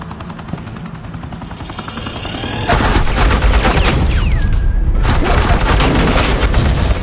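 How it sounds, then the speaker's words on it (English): Suppressing gunfire in the video game Batman The Telltale Series erupts as a loud, sustained barrage of rapid shots with booming impacts and a whining streak, running steadily for several seconds over a low rumbling background. "Suppressing fire."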